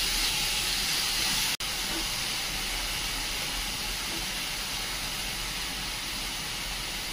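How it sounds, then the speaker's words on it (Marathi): Grated potato and onion sauté in a pan, giving a constant, even sizzling hiss throughout, broken by one brief sharp dropout early on. "आता कांदा बटाटा छान असा परतून घेऊया"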